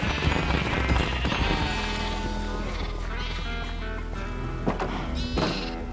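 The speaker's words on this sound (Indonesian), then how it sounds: "memberi makan semua domba-dombaku dan menyembelih semua domba-domba gerang" Sheep in Minecraft Java Edition played on a phone, with several loud, close bleats overlapping and wavering over a steady low background tone.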